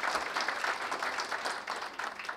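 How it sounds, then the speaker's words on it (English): An audience applauds at a campaign launch event honouring Akshay Kumar, a sustained, moderately distant clatter of many hands clapping without a break. "I think he deserves a round of applause"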